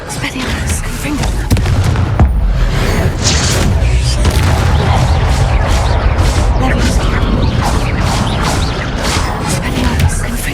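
Confringo blasting spells in Hogwarts Legacy burst in a rapid string of booming explosions and crashes, loud and dense for the whole stretch with a brief lull early on, with game sounds mixed in.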